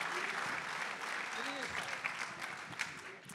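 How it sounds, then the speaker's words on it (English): A crowd at a golf event in Orange County applauds golfer Larry Moody, with sustained clapping that swells and fades slightly while a voice carries over it. "give him a nice, warm applause, Orange County, and there's some, for Larry Moody"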